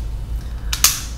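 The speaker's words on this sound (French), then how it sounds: "Il y a un petit mécanisme qui va libérer les pinces" The DX Buster Machine SJ-05 Go-Buster toy's small mechanism snaps to release its pincers, giving two quick, sharp plastic clicks close up against a quiet low hum.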